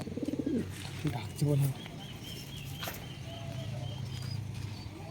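Giribaz and Madras pigeons coo in soft, rolling bursts close by, mixed with light chirps and rustling, while a person talks nearby.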